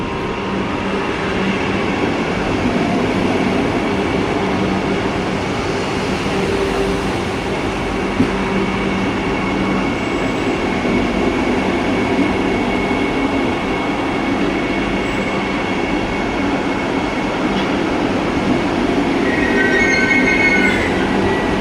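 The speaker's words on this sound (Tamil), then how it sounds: "நம்மளோட திருநெல்வேலிக்காரன் சென்னை எக்மோர் டு திருநெல்வேலி விபி வந்து வந்துட்டு இருக்கு" Chennai Egmore–Tirunelveli express train arriving at Virudhunagar Junction: a steady, loud rumble of rolling coaches with a faint squeal of wheels, continuous for the whole stretch with no talk.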